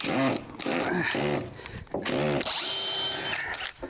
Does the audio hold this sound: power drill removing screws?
yes